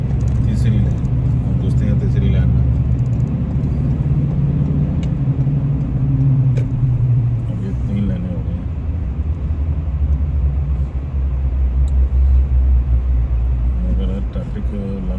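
Road traffic in a jammed tunnel, heard from inside a vehicle: a heavy, continuous low rumble of engines and tyres, loud and close, with a voice talking over it.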